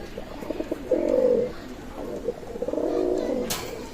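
Pigeons coo in two low, rolling bursts, fairly close, over a faint background murmur.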